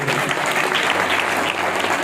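An audience at a devotional religious gathering claps in a dense, continuous burst of applause, loud and close, filling the whole short stretch with no talk over it.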